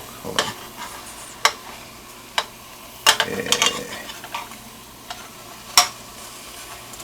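Steaks browning in a hot pan give a low, steady sizzle with scattered sharp pops and ticks, and a short clatter in the middle, all fairly quiet with no talking.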